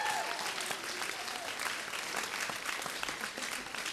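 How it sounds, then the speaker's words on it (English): An audience at a Bispham High School variety show claps together in sustained, dense applause. It is fairly soft and steady from start to finish. "Let's give those three a round of applause again for all their duties."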